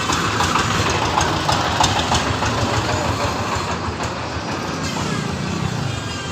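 A mustard oil mill machine running in a workshop, a loud, steady mechanical drone with rhythmic clattering throughout, heard up close.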